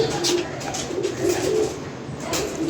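Pigeons coo repeatedly, close and clear, a series of soft rounded calls in a steady rhythm over a faint background hum.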